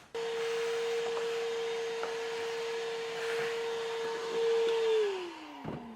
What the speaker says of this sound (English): And then we're going to want to get a vacuum.